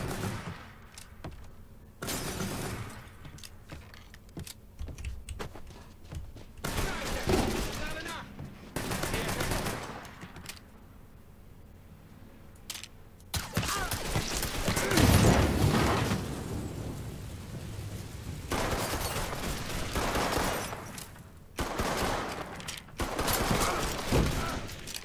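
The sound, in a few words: gunfire at the players in video game Mafia 3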